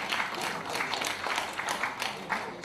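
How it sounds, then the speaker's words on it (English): An audience at a business and entrepreneurship conference applauds, with even rippling clapping throughout and a voice heard over it. "Please give him a round of applause."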